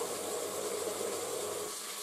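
Duck meat fries in a multicooker for pilaf with duck and rice, giving a steady, even sizzling hiss that holds at a constant moderate level throughout, with no talking.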